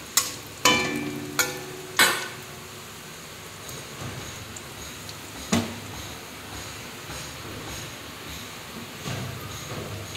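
Dried red chillies drop into hot oil, giving a few sharp crackles and pops at first, then a steady soft frying hiss, close and moderately loud, with no voices.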